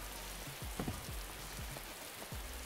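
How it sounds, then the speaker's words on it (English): Rain falling inside a house in the video game Dark and Light, a quiet, steady patter of drops with occasional soft splashes. "for some reason, it rains in your house."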